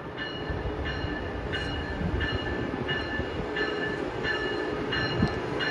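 An Amtrak train arriving at a station on the Northeast Corridor rumbles steadily nearby with a constant heavy roar of rail noise and faint rhythmic high clicks, no voices.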